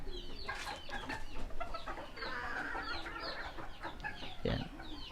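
Free-range Serama chickens cluck and chatter close by in a yard, a busy run of overlapping short clucks and calls with no talk.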